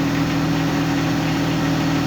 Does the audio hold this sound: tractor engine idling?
yes